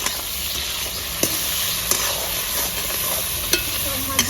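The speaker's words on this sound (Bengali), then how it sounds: "মাছ আমি খুব বেশি ভাজবো না, হালকাই ভাজবো" Small prawns coated with turmeric and salt fry in a pan with a steady, close sizzle, punctuated by a few sharp pops and stirring taps at irregular intervals.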